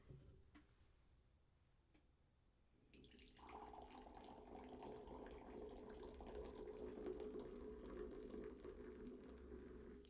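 Red Bull Winter Edition energy drink poured into a glass, a soft quiet start followed by a steady fizzing, bubbling pour that continues to the end, no voices.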